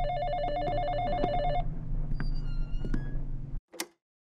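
A telephone rings in a psychological horror video game: a loud, electronic double ring repeating for about a second and a half, then fading under dull ambient knocks and a brief sharp noise near the end.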